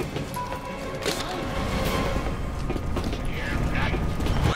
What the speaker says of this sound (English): The elevator's coming down.